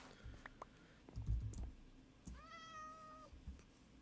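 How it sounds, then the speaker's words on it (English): A cat meows in the Minecraft video game: one drawn-out, wavering cry lasting about a second, preceded by soft clicks and low thumps, moderately close and alone without talk. "Oh, I just heard a kitty cat."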